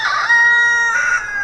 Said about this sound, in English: our rooster way over there